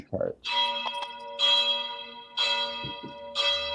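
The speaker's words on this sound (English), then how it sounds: "That was number 2 on our church bell sounds." A church bell sound effect strikes four times at an even, unhurried pace, each loud, ringing chime lingering briefly before the next, with a short voice sound at the start.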